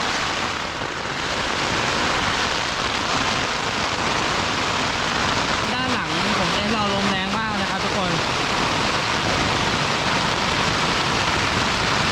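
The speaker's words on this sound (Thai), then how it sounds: "ฝนตกหนักมากนะครับ" Heavy rain pours steadily at a campsite around midnight amid strong wind, a dense continuous wash throughout, with a voice speaking briefly in the middle.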